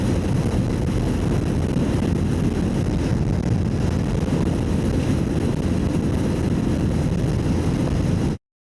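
Heavy wind roars across a camera mounted on a motorbike during a scenic mountain ride in New Zealand's North Island, a loud, continuous low buffeting that holds steady and then cuts off abruptly.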